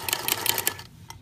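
A sewing machine stitches a knitted steek in quick rapid bursts of needle clatter, close and steady before stopping, with a single click afterward.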